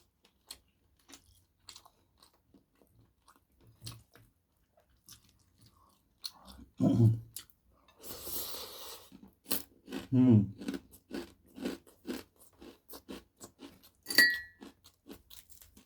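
Crunchy chicharon pork rind being bitten and chewed up close, eaten with squid adobo, with scattered small clicks giving way to bursts of loud crackling crunches in the middle and toward the end.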